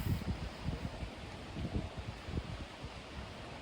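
Gusty wind buffets the microphone in low, uneven rumbles, a steady outdoor rush with no talking.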